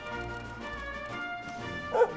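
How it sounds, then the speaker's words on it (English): A dog in the video game Dragon Quest XI gives short yipping barks over the game's background music, ending in one louder bark. "Woof, woof."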